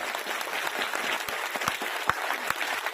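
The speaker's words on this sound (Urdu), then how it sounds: "زوردار تالیاں" A crowd gathered for a religious talk in a village breaks into sustained applause, a dense, even patter of many hands at moderate volume with a few sharper claps standing out.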